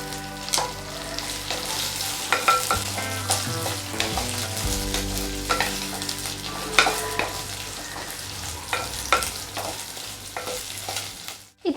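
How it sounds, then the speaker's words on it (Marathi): Chopped onion frying in a pan for green tomato chutney, a steady close sizzle with repeated clinks and scrapes of a spatula stirring throughout, no voices. "इथपर्यंत आपल्याला कांदा जो आहे तो छान असा फ्राय करून घ्यायचा आहे"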